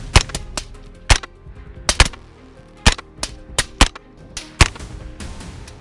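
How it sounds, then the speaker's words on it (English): Sharp gunshots crack repeatedly during a nighttime wild boar hunt, some fired in quick bursts and others spaced apart, loud and close over a low background hum. "A deep breath, a firm squeeze on the trigger, gunshots echo through the night."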